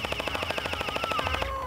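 An AKM-47 gel blaster bought from Amazon fires a rapid automatic burst of about twenty evenly spaced shots over a whining motor, close and loud, then stops abruptly as the motor winds down.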